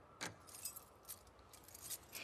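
In The Last of Us Part II, a set of keys jingles faintly in light metallic rattles and a few brighter clinks, quiet and close against a low ambient background.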